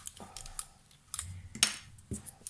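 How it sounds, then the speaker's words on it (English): Metal scissors are picked up and handled near a cardboard crafting project, giving several quiet, close clinks and clicks in short bursts with pauses between them. "Let me grab my scissors."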